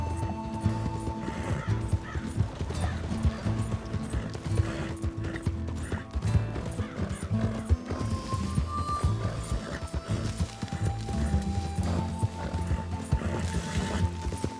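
A horse in Red Dead Redemption 2 gallops with a continuous rapid drumming of hooves and tack rattle, loud and close for the whole stretch, while a sustained musical score plays underneath.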